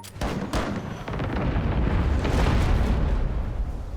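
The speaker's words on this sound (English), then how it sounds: "Yep, they do have long-range cannons." Booming blasts of long-range enemy cannon fire in the naval game Abandon Ship, loud and close: a sharp initial hit followed by a heavy, rumbling explosion that swells and lingers, with no talk.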